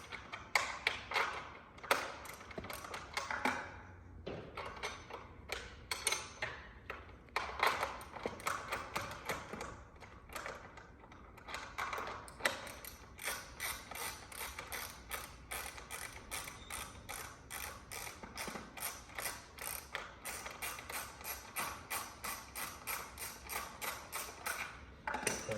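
A ratchet with a 15 mm socket undoes bolts during assembly of an Ariel Rider X Class 52v step-through e-bike, giving rapid continuous clicking in long runs, close but quiet, with no talk.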